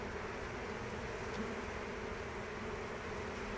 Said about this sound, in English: Normally bees don't like to walk downhill,